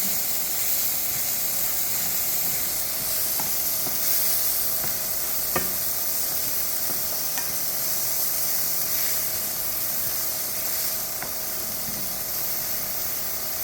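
Onions for a butter garlic prawn masala fry in a pan with a continuous loud, steady hiss and sizzle, broken by a few faint clicks of stirring, close by and without talking.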